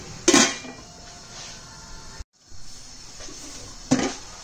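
A metal lid clanks onto a pot of pansit bihon and canton on the stove. Two sharp clinks ring out about four seconds apart over a low background of cooking.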